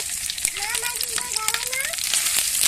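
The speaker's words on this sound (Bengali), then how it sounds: "এই যে এখানে রসুন বাটা আদা বাটা দিলাম" Garlic and ginger paste hisses and crackles in hot oil for an olive pickle, a steady sizzle with a few faint, wavering tonal voice-like sounds drifting above it.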